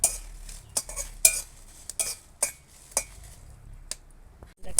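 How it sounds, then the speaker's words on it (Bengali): Dry red chillies stirred in a wok: a utensil scrapes and clinks against the metal pan in irregular strokes, close and sharp, over a faint sizzle, with no talking. "অল্প নেড়ে চেড়ে নেব"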